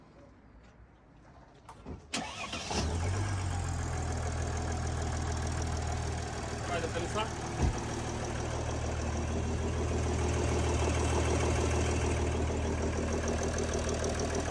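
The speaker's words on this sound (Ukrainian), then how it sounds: "Стучить тільки у нас на холодну." A Mercedes OM642 diesel engine starts cold with a brief crank, then settles into a steady, loud idle with a rough, rhythmic knock, a few words spoken over it.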